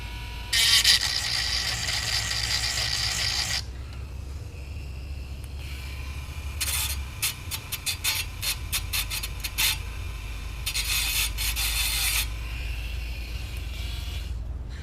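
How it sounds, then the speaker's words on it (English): A rotary tool fitted with a diamond wheel works on corroded contacts of a Realistic Patrolman 4 radio, giving a long whining grind followed by rapid start-stop bursts of buzzing abrasion, loud and close with no voices. "These diamond wheels are real good for getting these like contacts too here."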